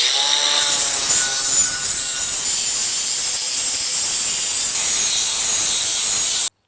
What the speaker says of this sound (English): I moved on to a worn out 80 grit to smooth out the edges further